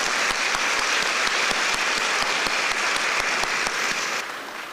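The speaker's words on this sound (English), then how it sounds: "Let's give him a round of applause." Sustained applause from a banquet audience at the American Chamber of Commerce in Taiwan's 2023 year-end dinner in Taipei, dense, steady clapping that stays loud throughout and eases slightly at the very end.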